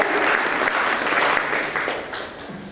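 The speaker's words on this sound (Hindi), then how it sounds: "इस बात के लिए एक बार जोरदार तालियां बनती है" An audience at a Hindi book event honoring an author breaks into hearty applause, a thick burst of many hands clapping that stays strong, then eases slightly toward the end.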